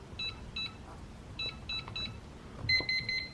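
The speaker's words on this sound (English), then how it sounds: "long beep means it's now deleted" A Kwikset smart door handle lock gives a series of short electronic beeps followed by a longer, louder beep confirming a user code deletion, close and clear against quiet room tone.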